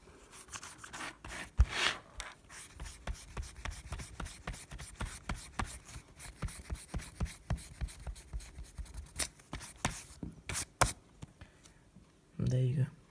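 A rubber eraser scrubs pencil notes off paper in quick, repeated rubbing strokes, close and fairly loud, with a brief pause near the end before a last burst of rubbing.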